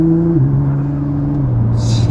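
A used 1,000 hp Nissan GT-R pulls away under acceleration, heard from inside as a loud, steady low engine drone that steps down in pitch as it shifts, with a brief hiss near the end.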